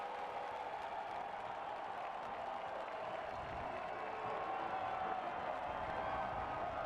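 Crowd noise from fans at the Phoenix Rising FC versus San Diego Loyal SC soccer match, a continuous distant roar of cheering and clapping that swells slightly toward the end.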